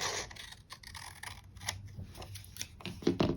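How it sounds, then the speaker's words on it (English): Scissors trim a sheet of paper for a planner page in a run of crisp, close snips and scrapes, uneven in rhythm, ending with a slightly louder cut. "I need to just trim slightly to get this a little bit more level."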